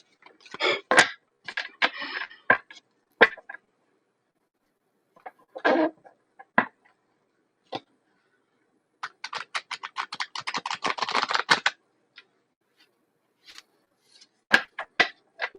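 A deck of tarot cards is shuffled in bursts of quick riffling and soft slapping, with quiet gaps between them, up close.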